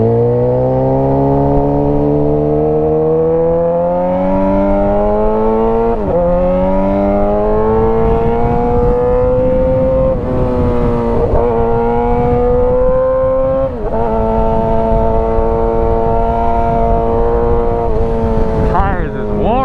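Loud, high-pitched exhaust from a modified Suzuki GSX-R600 motorcycle, revving close by in repeated rising sweeps with brief drops between pulls, filling the whole stretch.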